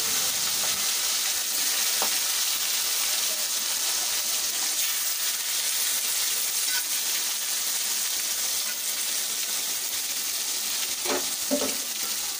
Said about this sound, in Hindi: ये देखिए फ्राई हो रहा है।